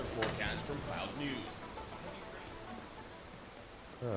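Steady rain in the video game Cyberpunk makes a broad, even hiss that runs through the whole stretch, with a voice speaking over it at times.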